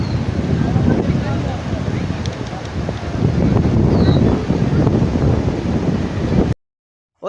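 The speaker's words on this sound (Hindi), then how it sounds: "तेज़ हवा चल रही है" Strong wind gusts buffet the microphone in Kashmir's Upper Neelum valley, a steady loud broadband roar for about six seconds before cutting out; no clear talk over it.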